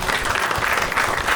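Audience at a Marathi comedy show bursts into dense, loud applause, a steady burst of clapping throughout.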